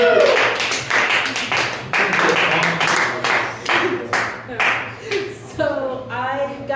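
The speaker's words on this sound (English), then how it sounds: "Clap your hands for her." Audience clapping for Ava Schwartz, sharp claps that come in uneven bursts and layer with talking throughout, and a voice rises near the end.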